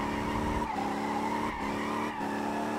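A car drifts around a race track in the video game Motor Town, with a sustained engine drone and tire squeal running throughout and brief dips in the sound, no talking.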